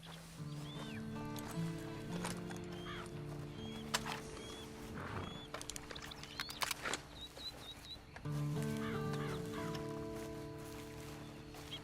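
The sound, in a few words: horse in the video game Red Dead Online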